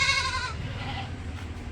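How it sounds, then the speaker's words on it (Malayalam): A hornless dairy goat with good milk bleats once, loud and close, the cry fading after about half a second into low background rumble. "നല്ല പാലുള്ള ഒരു കൊമ്പില്ലാത്ത ടൈപ്പ് ആട്"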